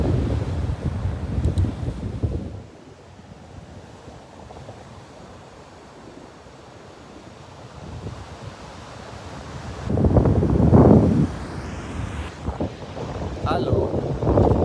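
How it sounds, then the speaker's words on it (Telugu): Big ocean waves crash and roll in at Perupalem beach while strong wind rumbles against the microphone, with louder surges of surf and occasional voices. "పెద్ద పెద్ద అలలు."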